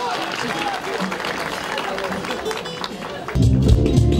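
Applause from an audience at a municipal Nilüfer festival in Çivril, Turkey, honours the mayor with steady clapping and crowd noise under a loud announcer's voice, swelling into heavier, fuller applause near the end.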